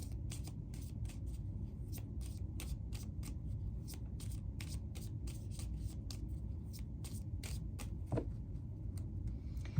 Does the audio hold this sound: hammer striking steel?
no